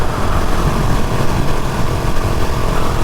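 A 2020 KTM 690 Enduro R motorcycle cruises at 70 mph, its single-cylinder engine humming steadily under loud, constant wind rush from close by, with no talking.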